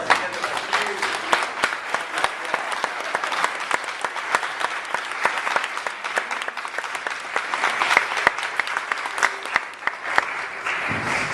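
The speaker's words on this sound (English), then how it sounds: "And I want you to applaud yourself and the rest of us." Loud, sustained applause from a crowd gathered outdoors at a solar dedication ceremony, with sharp individual claps standing out over the continuous clapping, and some voices mixed in.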